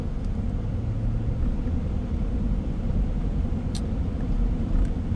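A car rolls along a snow-covered road that a plow has partly cleared, giving a steady, close engine drone with road rumble that stays even throughout and has no talk over it.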